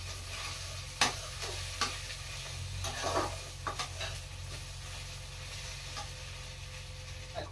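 Cumin and coriander powder are stirred into frying matar paneer. A soft, continuous sizzle runs under scattered spoon taps and scrapes against the pan, with a low hum underneath throughout.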